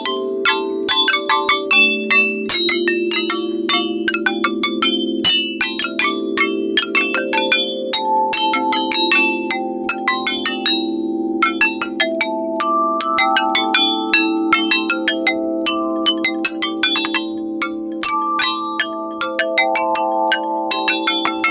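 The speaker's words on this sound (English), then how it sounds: "All right, let's try some more bells." Bells ringing in a continuous melodic sequence of clear metallic strikes, evenly paced and close, each tone sustaining under the next.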